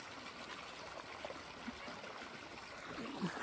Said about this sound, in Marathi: इकडे पाणी चालू